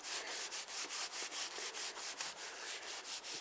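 A rag rubs Autosol metal polish over a rusted motorcycle exhaust pipe in steady back-and-forth strokes, an even, close scrubbing rasp about three per second throughout, with no talking.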